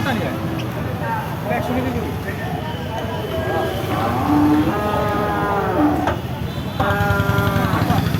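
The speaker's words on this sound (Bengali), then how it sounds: "গরুগুলো সব লোড করা হচ্ছে" Cattle lowing at a busy livestock market (haat) in Chaugachha, Jessore, Bangladesh, with repeated moos rising over constant crowd chatter and the bustle of trading, animals close and loud throughout.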